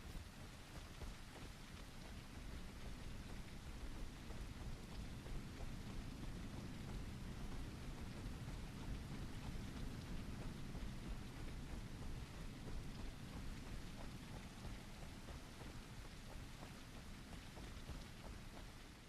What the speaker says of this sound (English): I guess it's dark and raining, but I'm not surprised I'm not seeing anyone.